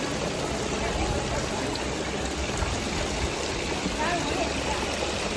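Water spouts at a temple in Pokhara, Nepal, pour in a steady, close, full-bodied stream that rushes continuously with no pauses.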